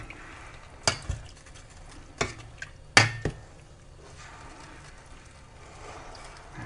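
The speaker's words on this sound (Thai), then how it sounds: "ตรงนี้รอความร้อนแล้วก็คนนะครับกดให้มันเข้ากัน" Khi lek curry with beef skin being stirred and pressed in a pot on an electric stove, a few sharp scrapes and knocks of the utensil against the pot over a soft simmering background.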